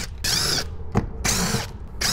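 Power tool or drill removing 6 mm bolts from a Ram truck rear door speaker, three bursts of steady whirring separated by short pauses, close and loud with no talking.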